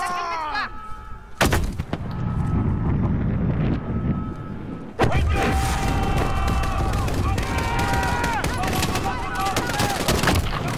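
Gunfire in the Call of Duty Modern Warfare video game: sharp bursts of automatic rifle and machine-gun fire, dense and loud, mixed with explosions and wind, with brief game dialogue at the start.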